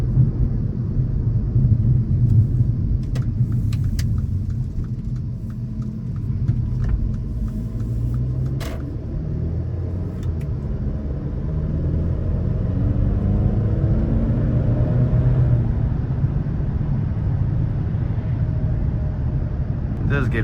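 Low, steady road rumble inside a 2016 Mercedes CLA 250 with 208 horsepower as it drives over a bumpy road under construction, with continuous tire and engine drone and a few brief knocks.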